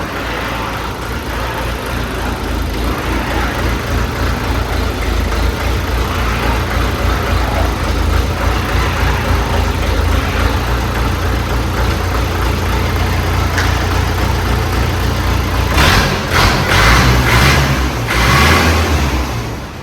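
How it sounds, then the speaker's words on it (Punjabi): A new-model YTO Agri Master tractor engine idles in a steady, loud, close rumble for a long stretch, then shifts unevenly with a few rough surges near the end. "ਸਾਊਂਡ ਚੈੱਕ ਕਰੋ ਟਰੈਕਟਰ ਦਾ"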